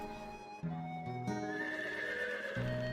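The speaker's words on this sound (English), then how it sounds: "I hear the telltale sound of a horse's gallop." A horse whinnies loudly with hooves clattering in a quick rhythm, sounding like a synthetic game effect with shifting layered tones.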